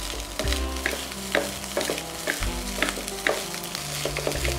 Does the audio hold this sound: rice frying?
yes